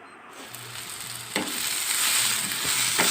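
Garlic and peanuts sauté in a hot pan for peanut chutney, giving a steady close sizzle and frying hiss that swells slightly. A few sharp stirring scrapes cut through the sizzle.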